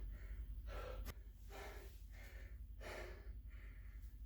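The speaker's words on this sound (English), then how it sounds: "I gotta catch my breath before I talk." Heavy, rhythmic breathing after exercise, several deep gasping inhales and exhales close to the microphone, with no talking.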